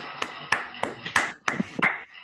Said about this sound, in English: Let's have some canned applause for Ken